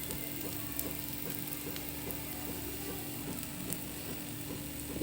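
An egg dosa fries on a hot pan with a steady, close crackling sizzle, a dense continuous hiss dotted with tiny pops and spits.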